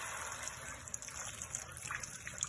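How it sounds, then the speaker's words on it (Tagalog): Water poured into a cooking pot while leafy greens like pechay are being cooked, a steady faint gushing trickle lasting a couple of seconds with no talk over it. "Lagyan na natin ng tubig"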